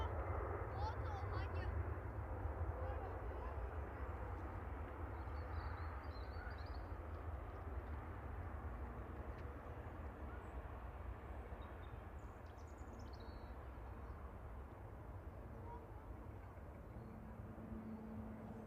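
A Jet2 Airbus A330 passes over a hangar at Manchester Airport, a distant, steady low rumble that holds for the whole stretch.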